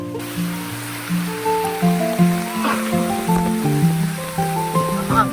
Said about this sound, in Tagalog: Grabe, sobrang lakas ng ulan.